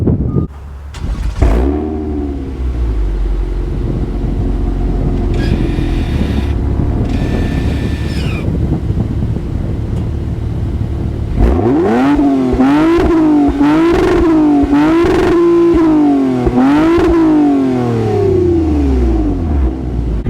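A 2021 Toyota Avalon TRD's 3.5-liter V6 with catback exhaust and dual tips, idling with a low rumble, then blipped through a series of sharp, loud revs that snarl up and fall back in quick succession.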